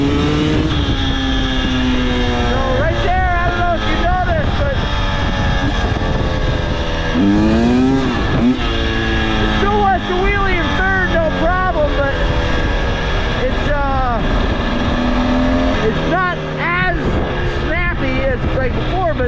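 A 2023 KTM 300XC dirt bike engine accelerating hard, a loud, close, raspy roar that repeatedly climbs in pitch through revs and shifts for a sustained stretch.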